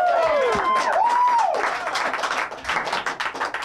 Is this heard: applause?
yes